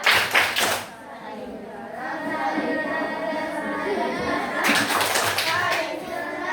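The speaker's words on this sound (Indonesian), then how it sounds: "Tepuk kelas 6" Rhythmic group hand clapping in short bursts, with sixth-grade children's voices chanting along in an Indonesian classroom.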